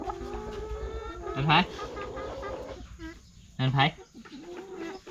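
Laying hens cluck and chatter in a coop at feeding time, with two louder, sharper squawks standing out, while someone talks over the flock throughout.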